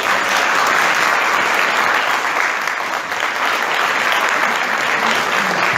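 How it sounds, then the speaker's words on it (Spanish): Loud, sustained audience applause fills a queen coronation for the Reina del Sur de Italia pageant, dense clapping holding steady throughout with no talk over it. "un aplauso para ella, por favor"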